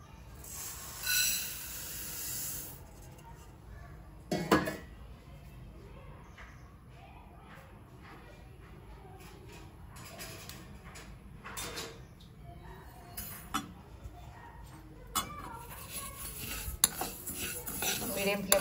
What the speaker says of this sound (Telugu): ఫస్ట్ ఒక చిన్న బాండి పెట్టేసుకొని స్టవ్ పైన నువ్వులు మంచి స్మెల్ వచ్చేంత వరకు ఫ్రై చేసుకోవాలి